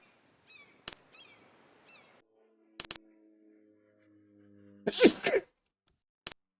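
A single loud, close sneeze bursts out midway, sharp and sudden against a quiet background, with scattered soft clicks and faint game-like tones before it.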